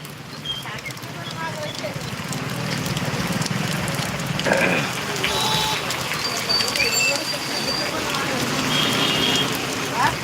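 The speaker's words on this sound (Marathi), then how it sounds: "आपण नारळ मागितले आज आणि पाऊस चालू झाला" Rain patters steadily on surfaces outdoors, a continuous hiss with scattered drops, while people talk over it.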